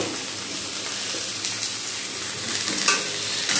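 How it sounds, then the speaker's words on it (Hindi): Bell peppers are tossed into onions frying in a pan, giving a steady, moderate sizzle with a brief clatter of stirring near the end and no talk. "प्याज भूनने के बाद प्याज भून गए, अब इसमें डालेंगे शिमला मिर्च।"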